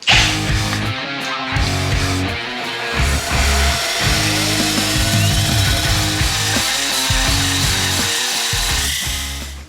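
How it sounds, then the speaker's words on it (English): A loud, continuous grinding drone of a belt sander grinding a point onto a metal rod, running almost without pause and close by. "I'm gonna put it back in the drill, make a point on the other side"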